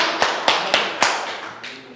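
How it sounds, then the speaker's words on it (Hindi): A handful of sharp, separate claps ring out at a school results celebration, spaced unevenly over two seconds and fading toward the end rather than building into sustained applause. "जोरदार तालियां"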